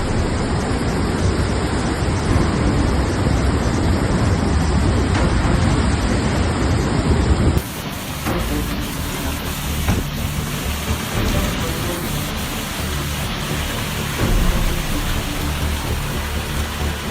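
Torrential rain pours down with rushing floodwater during a severe European storm, a dense roaring wash that is loud for the first half, then drops to a softer, steadier downpour.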